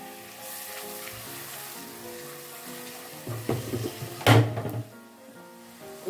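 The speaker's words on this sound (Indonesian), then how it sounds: "Kita tumis sampai harum ya bunda." Spices sauté in oil in a pan for sweet soy-braised eggs, a steady sizzle with occasional stirring and a louder burst of frying near the end.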